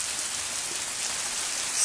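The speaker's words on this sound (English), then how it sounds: "Rain, stop pouring." Steady heavy rain pours down, a dense, even hiss of drops hitting surfaces that stays constant throughout with no voices.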